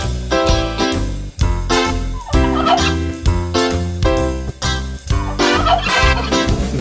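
Turkeys gobbling in a French children's nursery song, cartoonish gobbles repeating rhythmically over bright music, loud and upfront throughout.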